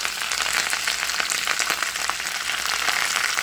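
Vegetables stir-frying in hot olive oil in a pan, a steady loud dense sizzle with faint crackles throughout, close up and with no talk.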